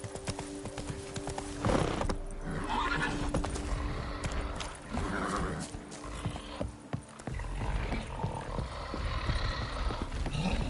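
A horse in The Witcher 3 gallops with steady clip-clop hoofbeats and lets out a loud neigh partway through, the game's ambience running underneath.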